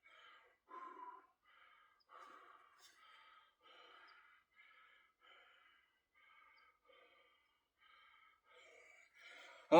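Heavy, ragged breathing after a chest workout at the gym: a series of close gasps, snorts and sighing exhales spaced a second or so apart, fairly quiet, ending in a sudden loud burst.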